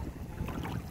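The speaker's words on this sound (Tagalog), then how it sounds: "Super ang hangin dito guys." Strong seaside wind at a seaweed harvest, blowing as a steady, fairly faint low roar and rumble with no voices.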